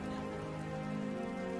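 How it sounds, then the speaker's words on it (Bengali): Cartoon-style rain sound effect as a shower begins, a steady dense hiss of falling rain with a faint tonal music bed underneath, continuous and even throughout. "আস্তে নাস্তে বৃষ্টি শুরু হয়ে গেল যে"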